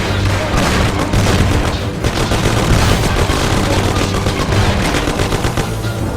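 Gunfire in the 2002 crime action game Mafia: a continuous, loud, dense barrage of automatic weapon fire and booming shots, with rattling, overlapping reports throughout.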